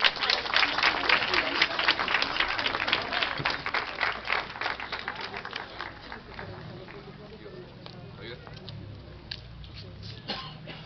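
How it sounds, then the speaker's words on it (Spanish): A crowd at a Catholic religious procession for Our Lady of Reconciliation in La Molina applauds with dense, loud clapping that swells, then thins to scattered claps under cheering voices. "¡Aplausos a nuestra madre!"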